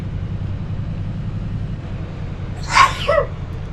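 A single person's sneeze, bright and sudden, with a short follow-up burst, over a low steady rumble of a room or vehicle; no talking.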